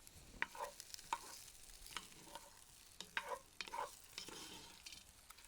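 Kielbasa chunks being stirred in a Dutch oven, a handful of distinct scraping clinks of a utensil against the pot over a faint, steady sizzle, close and fairly quiet with no talking.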